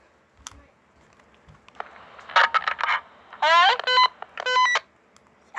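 Electronic beeps and chirping tones from a walkie-talkie being tested between rooms, several short bursts and two longer warbling tone sequences, fairly close, with faint talk in the background.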